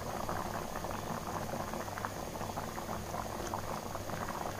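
Split chickpea dal boiling in a pot, a dense, steady bubbling and gurgling that holds at an even loudness from start to finish, close by and with no voices over it.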